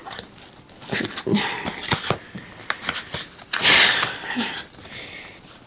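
Tarot cards being shuffled by hand, a run of sharp papery flicks and riffles in irregular bursts, close and fairly loud, with a few breathy sounds between them.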